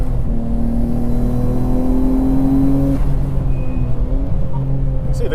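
A Nissan Skyline GT-R at speed on The Bend GT race circuit, its engine holding a steady loud drone that rises in pitch, dips, then climbs again through a fast left-hand corner, heard close from onboard.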